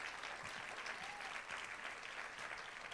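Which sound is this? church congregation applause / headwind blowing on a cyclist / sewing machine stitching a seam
church congregation applause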